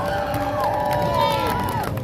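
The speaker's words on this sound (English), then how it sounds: "everybody clap your hands and make some noise!" Large holiday crowd on a New York City street, a continuous roar of cheering and shouting voices with scattered clapping, dense and close, sustained at an even level throughout.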